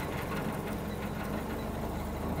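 A Ford Pinto station wagon engine idles at a stoplight, giving a steady, even low rumble with a constant hum and no talking.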